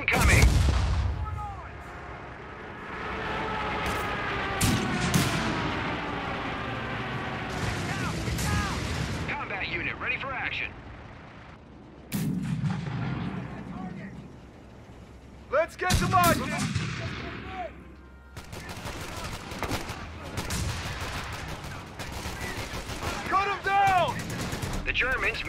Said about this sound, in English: Airstrike incoming.